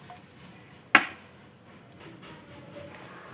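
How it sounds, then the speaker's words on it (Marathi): A single sharp sizzle bursts out as a hot oil tempering (phodni) is poured over a carrot salad, then quickly dies away into quiet crackle. "ही फोडणी आपण या कोशिंबिरीवरती घालून घ्यायची"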